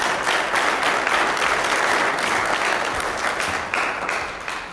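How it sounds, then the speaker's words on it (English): Stadium audience at a 2017 summit applauding steadily and loudly throughout, a dense wash of clapping with no voices over it. "So can we give them a round of applause as they come to the program"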